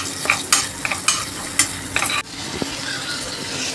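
Onions sautéing in a pan with a little salt for chicken biryani, a loud close sizzle under repeated scraping stirs from a spoon, and the stirring stops partway while the frying hiss continues.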